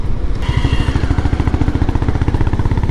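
A Honda CB350RS or KTM Adventure 250 motorcycle engine pulls in third gear, a steady low throbbing thump with dense regular firing pulses, loud and close throughout.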